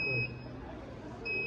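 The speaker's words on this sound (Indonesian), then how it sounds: "ketika MCFA bunyi beep putih-putih seperti ini, tandanya dia ada trouble" A master control fire alarm panel sounds its trouble warning: two short, high electronic beeps, one at the start and one at the end, with quiet hum between.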